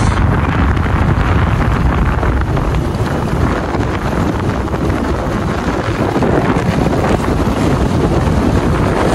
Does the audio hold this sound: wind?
yes